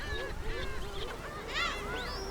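Black-tailed gulls on Dokdo give repeated nasal, mewing calls, several birds overlapping in quick succession, fairly close with outdoor background noise.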